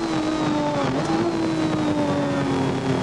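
A race car at the 1981 James Hardie 1000 at Bathurst drives down pit straight toward Hell Corner, a loud sustained engine drone heard from onboard, pitch dipping and rising.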